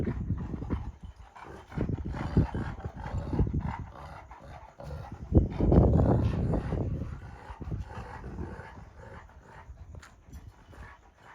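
Two Kangal dogs scuffle in a leadership fight, with bursts of growling, snarling and thrashing that swell loudest around the middle and then ease off. The dogs are close, and no one speaks.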